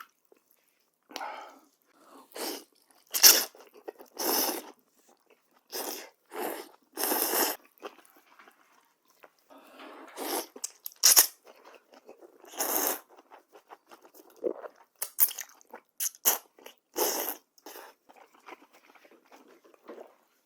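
Someone eats tuna and spicy jjamppong noodles up close, with bursts of wet chewing, crunching and slurping separated by quiet pauses, no talking.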